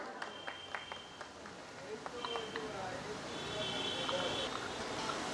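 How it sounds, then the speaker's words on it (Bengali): Applause at a Khuti puja event swells into steady, dense clapping from a crowd, building louder toward the end with voices mixed in. "জোরে করতালি হয়ে যাক আবারও"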